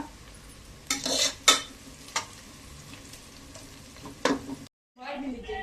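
Ginger garlic paste sizzles in a pan for chicken biryani masala, with a few loud spoon scrapes and knocks against the metal, then a brief silence before the frying returns.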